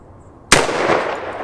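A single sharp gunshot at target shooting, close and loud, with a sudden crack followed by a dense rolling echo that slowly trails off.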